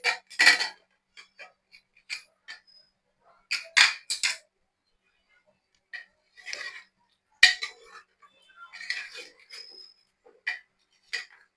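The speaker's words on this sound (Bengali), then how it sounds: "আমি এখন ঢাকনা খুলে দেখে নিচ্ছি।" The lid of a pressure cooker full of mutton curry with potatoes is handled and opened, giving sparse metallic clanks and clicks of metal against metal, separated by silence.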